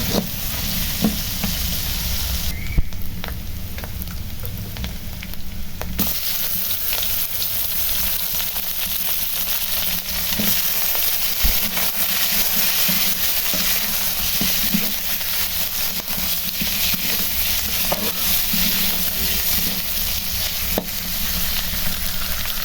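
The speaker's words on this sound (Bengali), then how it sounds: "এখন দিয়ে দিলাম হলুদ, তারপরে লবণ দিয়ে কষাই নেব মশলার সাথে" Tengra fish curry paste of onion, garlic, ginger paste, green chili, whole garam masala, turmeric and salt sizzles steadily in hot oil as it is stirred, a continuous close frying hiss with occasional scraping and no talking.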